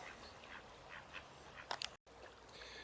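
Ducks quacking in a short burst of calls, a few scattered quacks then a quicker cluster, heard outdoors against steady background noise with a brief dropout.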